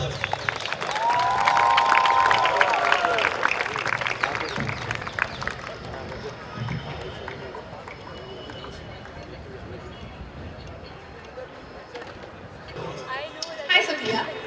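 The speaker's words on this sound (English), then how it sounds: "a huge round of applause for Miss Moira Rajpal" Audience at a college tech festival event clapping and cheering for a performer, a burst of applause up front that quickly gives way to talk and quieter crowd noise, with a brief flare of noise near the end.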